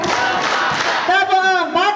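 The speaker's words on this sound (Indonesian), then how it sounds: "Oke, tepuk satu, tepuk dua, tepuk tiga," A school group in Malang claps together on command at a socialization event, with loud, slightly ragged bursts of clapping that tighten into fuller rhythmic beats near the end, mixed with crowd noise and voices.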